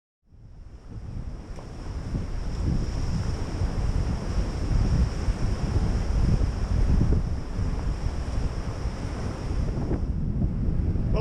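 Waves crash against a breakwater with strong wind buffeting the microphone, a steady loud roar of surf and gusts that swells and holds for the whole stretch.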